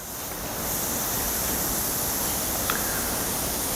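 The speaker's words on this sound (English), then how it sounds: "Also a bit of a leak here on my supply fitting." Air hisses from a leaking threaded supply fitting on a homemade rat-rod air suspension manual controller: a steady, close, broadband hiss running continuously throughout with no talk.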